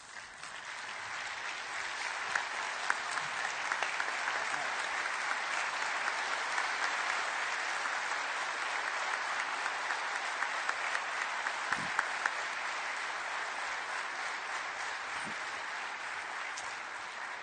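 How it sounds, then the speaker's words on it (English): A large conference audience gives a standing ovation, steady dense applause that holds at an even level for many seconds, broad and somewhat distant, with occasional sharper individual claps. "give you a good standing ovation with a good round of"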